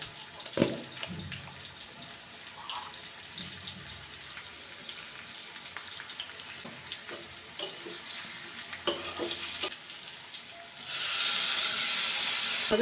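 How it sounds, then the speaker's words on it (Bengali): Potato, pointed gourd and onion fry together in a pan, a steady sizzle broken by scattered scrapes and clinks of stirring, then swelling into a louder, brighter hiss near the end. "আলু পটল পেঁয়াজ কিন্তু একসাথে বেশ ভালোভাবেই ভাজা হয়ে গেছে"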